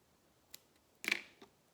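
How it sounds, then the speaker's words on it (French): Scissors snipping paper for a scrapbooking charm: one faint snip, then a crisp, louder cut, close and quiet, with no talking. "donc je vais découper ça."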